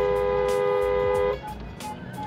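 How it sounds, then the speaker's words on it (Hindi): A chiming collision warning alert from the ADAS system of a new 4x4 SUV rival to the Fortuner, a steady tonal beeping for about a second and a half, then softer repeated pips inside the cabin. "अब ये देखिए गाड़ी आपको वार्निंग दे रही है"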